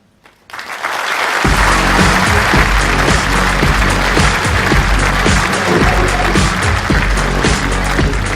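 A large conference audience applauds loudly and steadily at a TechEd 2013 keynote in New Zealand, the clapping swelling in after a brief quiet start and holding dense and sustained throughout.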